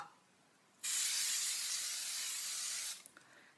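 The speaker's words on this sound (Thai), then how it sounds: "สเปรย์ให้ชุ่ม แค่นั้นเลย" A facial mist spray bottle releases one steady, fine hissing spray lasting about two seconds, close and fairly loud, in a quiet room.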